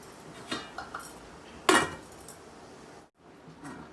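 A metal lid set down on a pot of Tirunelveli-style South Indian sambar gives one sharp, close clank, with a few lighter clinks of cookware before it and no talking.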